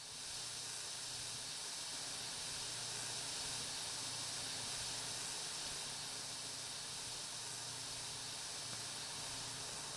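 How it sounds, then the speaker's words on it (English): Steam hisses in MotorTown as a truck fire is put out. A steady, even hiss runs without a break for about ten seconds, with no voices over it. "I think it's already working because I'm hearing and seeing steam."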